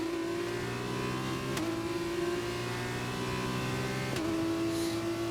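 A Formula 2 race car engine at the Austrian circuit in F1 2021 drones steadily at high revs, with two brief gear-shift dips breaking the sustained, loud whine.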